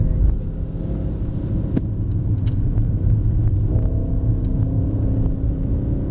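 A Mercedes-AMG E63s Estate Edition 1 accelerates out of a corner on a track, its engine a loud, continuous low rumble heard from inside the car, rising slightly in pitch partway through, with no talking.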